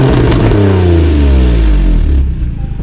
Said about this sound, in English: the obvious noise of the exhaust, which yes, I'll insert a clip here